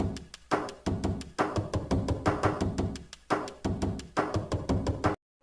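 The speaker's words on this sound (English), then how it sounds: "Let's add some reverb, and here's a drum kit." A drum kit built from Minecraft door sounds plays a steady, punchy loop with booming 808-style bass hits and reverb, repeating bars of kicks and snappy hits with no voices.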